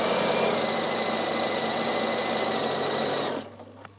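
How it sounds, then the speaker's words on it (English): A Bernina sewing machine straight-stitching around a fabric edge runs loud and steady at close range, then stops abruptly near the end, leaving a faint click. "So all I'm going to do is straight stitch around the edge just to hold it"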